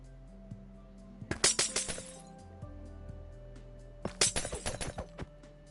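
Glass breaking in a video game, two separate bursts of crackling, tinkling shards about three seconds apart, bright and sharp over a steady low background hum.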